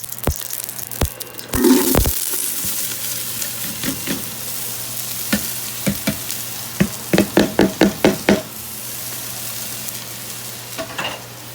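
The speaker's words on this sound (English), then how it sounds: "we're getting ready to saute the onions, the garlic, mushrooms" Onions, garlic and mushrooms sauteing together in a hot pan, a steady sizzle broken by a rapid series of spatula scrapes and knocks against the pan, close up.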